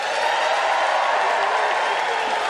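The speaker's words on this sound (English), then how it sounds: "Now, time to vote by applause." Studio audience at a comedy debate show applauding to vote, a dense, loud, continuous wash of clapping and crowd noise with scattered cheers.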